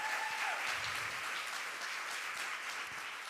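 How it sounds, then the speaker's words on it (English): A live audience at an author conversation event gives a short round of applause for a first book. The clapping is full and steady, moderately distant, and fades slightly toward the end with no talking over it. "Let's give that a round of applause."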